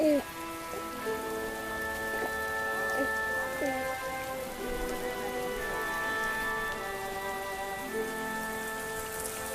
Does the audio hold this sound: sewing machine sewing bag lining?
no